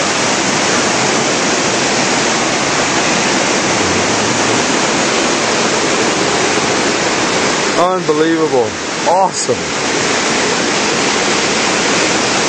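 Floodwater from Indian Springs Creek, running at double or triple its usual volume, pours into the Pitt River at their confluence on a rainy day. It makes a loud, steady broadband roar that never lets up, and a person speaks briefly over it partway through.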